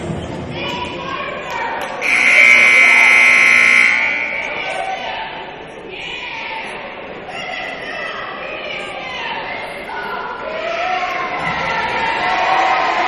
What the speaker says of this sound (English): The crowd really getting into it now for the Firebirds.